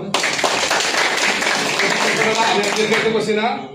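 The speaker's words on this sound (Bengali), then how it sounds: "তার জন্য একটা করতালি হোক।" An audience claps for a scientist at a DXN event, a dense burst of hand claps starting abruptly and continuing steadily at close range, mixed with voices throughout.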